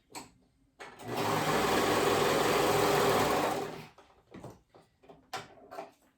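A sewing machine stitches the raw edge of a romper's continuous fabric band in one loud, steady run of about three seconds. Before and after, fabric is handled with soft clicks and rustles, and nobody speaks.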